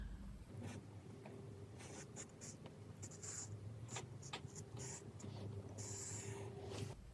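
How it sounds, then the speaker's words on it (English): Soft scratchy pencil strokes and light taps on paper, faint and close, repeating irregularly over a quiet room hiss. "that's what I'm going to pencil in on my piece of paper"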